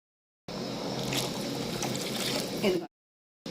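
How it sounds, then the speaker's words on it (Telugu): Water poured from a glass into a cooking pot while making broken-rice upma, a continuous splashing trickle lasting about two seconds and then stopping abruptly, fairly close and quiet, with no talk. "ఇప్పుడు వాటర్ వేస్తానండి రెండు గ్లాసులన్నర వాటర్ పోసుకోవాలి"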